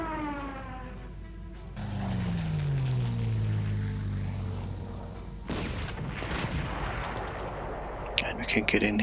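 Artillery in a WWII strategy video game: loud booming barrages over a rising siren-like whine, then dense overlapping blasts and gunfire, with a voice talking underneath.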